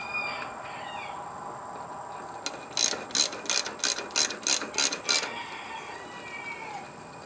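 A hand ratchet clicks in a quick run of about ten sharp, evenly spaced strokes while a bolt is tightened on a Massey Ferguson MF25 hay rake outdoors, with a rooster faintly crowing in the background.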